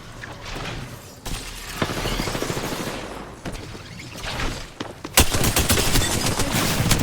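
Rapid automatic gunfire bursts in Apex Legends, loud and close with sharp cracks and clatter, intensifying into a dense sustained volley near the end.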